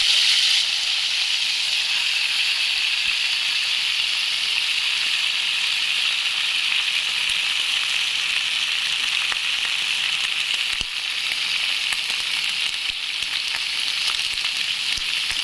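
Tender young home-grown eggplants, freshly cut, fry in heated oil in a kadai with a steady, close sizzle and hiss that holds evenly throughout, without talk.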